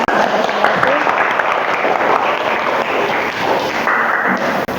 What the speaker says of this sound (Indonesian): kita tepuk tangan buat kelompok 4